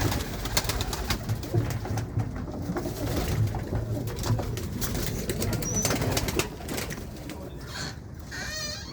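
Fancy racing pigeons of a prized breed cooing in a loft, a steady murmur of low coos overlapping throughout with scattered flutters and faint background noise.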